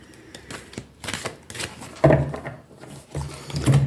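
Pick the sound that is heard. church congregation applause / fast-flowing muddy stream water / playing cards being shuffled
playing cards being shuffled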